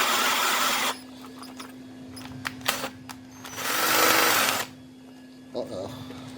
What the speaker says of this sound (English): Like I'm gonna drill one in front here